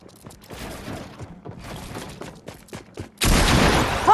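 Fortnite gunfire, scattered softer shots followed by a sudden loud, dense burst of close firing at the end.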